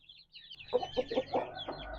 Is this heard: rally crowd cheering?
no